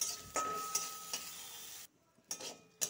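Soaked Gobindobhog rice lightly frying in ghee in a pan, a soft steady sizzle broken by periodic ticks and scrapes of a spoon stirring, with a brief quiet gap before the stirring resumes.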